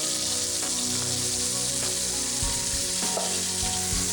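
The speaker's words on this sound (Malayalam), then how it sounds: "ഇതിലേക്ക് ടൊമാറ്റോ ചെറുതായിട്ട് അരിഞ്ഞത് ഇട്ട് കൊടുക്കാം" Steady, close sizzling of chopped tomatoes frying in butter, with occasional soft stirring knocks and scrapes in the pan; no talking.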